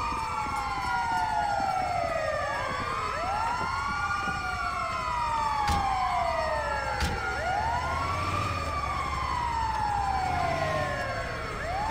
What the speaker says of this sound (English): Oh, shit, it's the ambulance.